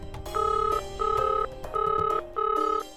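A telephone ringback plays over a speakerphone during a call, four evenly spaced double-pulse rings, loud and clear with no talking.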